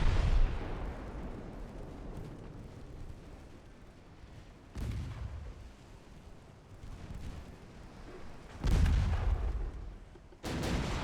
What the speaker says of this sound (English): So they're just peppering away with low penetration HE,